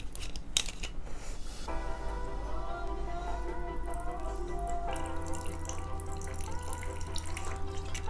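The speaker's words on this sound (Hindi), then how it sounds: "ये है हमारी इंट्रोडक्टरी स्कॉच विस्की जो हम डालने वाले हैं यहाँ पर।" Scotch whisky poured into glasses, a continuous trickling liquid stream with faint clinks and drips, fairly quiet and close.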